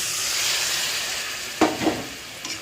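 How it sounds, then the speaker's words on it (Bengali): Water splashes into sizzling spiced curry masala in a wok, a loud close hiss followed by a few brief pouring bursts and scrapes, with no talk. "এবার আমার এই বাটিটা ধুয়ে জলটা দিয়ে দিচ্ছি"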